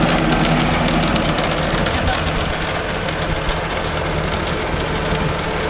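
A Mahindra Arjun Novo 605 DI diesel tractor runs steadily on its way to a cotton field with a rotavator. The engine gives a loud, continuous rumble and clatter that fills the whole stretch without a break.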